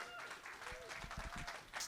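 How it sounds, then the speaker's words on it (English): An audience at a LevelUp 2025 event in Dallas, Texas breaks into faint, distant applause, a brief patter of many hands clapping. "Give a round of applause for Chris Dillon, please."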